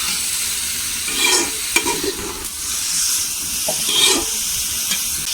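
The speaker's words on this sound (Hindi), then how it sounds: "अब हम प्याज फ्राई करेंगे।" Onions frying in ghee in a pan, a loud continuous close sizzle with a few scraping stirs and bursts of spitting.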